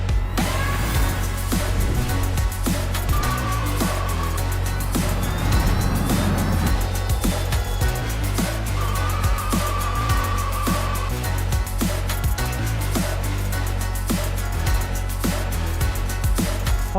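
Ultraviolette F77 Mach 2 electric motorcycle being ridden, a steady loud drive and wind roar with rhythmic ticking pulses and a faint rising whine running throughout.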